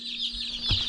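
Cornish Cross chicks in a chicken tractor give a brief, close burst of high, rapid peeping chirps lasting under a second.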